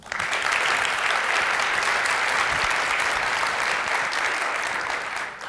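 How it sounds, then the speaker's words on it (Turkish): A television studio audience applauds steadily and loudly for about five seconds, a dense continuous clapping with no talking over it. "Alkışlıyorum."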